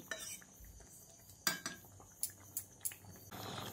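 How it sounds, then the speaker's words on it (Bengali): A ladle stirs a pot of drumsticks, eggplant and masoor dal after low-to-medium simmering, making several sharp metallic scrapes and clinks against the pot over a quiet, low bubbling background. "তারপর ঢাকাটা খুলে আরও একবার ভালো করে নেড়েচেড়ে নিচ্ছি"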